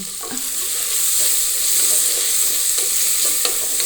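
Sliced onion sizzles loudly in hot tempering oil, giving a dense, continuous hiss with a few light clinks of a spoon against the pan and no speech.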